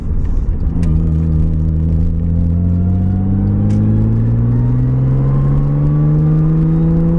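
A Nissan R32 Skyline GT-R engine revs steadily upward, its rising harmonic whine climbing smoothly over several seconds, loud and close with a deep rumble underneath and no talking.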